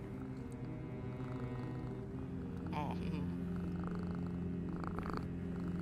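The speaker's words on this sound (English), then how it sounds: "I can hear the pretty purrs." A cat purrs steadily and close up in the video game Vampyr, a continuous low rumbling throb with a brief meow-like chirp partway through, over faint background music.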